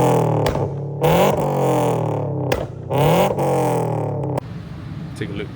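Hyundai Elantra engine fitted with a JDL front pipe, revving in sharp bursts that rise and cut off several times, loud and close, with a lower idle rumble afterward.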